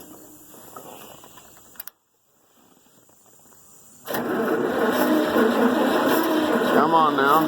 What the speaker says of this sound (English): maybe it'll be charged up enough to try starting now